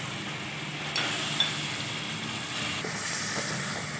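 250 grams of chicken frying in masala in a pan for Lahori murgh cholay, a steady, even sizzling hiss with a few faint clinks, close and continuous.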